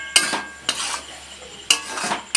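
Chicken, peas and boiled potato stirred in a pan for ghugni, with four sharp clinks of a utensil against the pan among softer scraping and shuffling, close and fairly loud, no talking.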